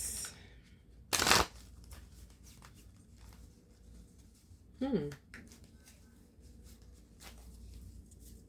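Tarot cards shuffled by hand during a reading, with a brief sharp riffle and soft rustling close by, plus a short vocal sound and quiet background noise.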